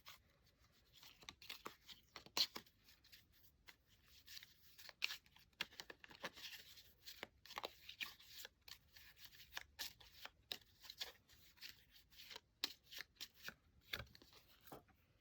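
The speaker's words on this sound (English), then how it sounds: "Like normal, I will also shuffle the cards and then we can have a look." A deck of cards is shuffled by hand in a quiet room, producing faint, irregular riffling snaps and soft slaps in short bursts over a long stretch.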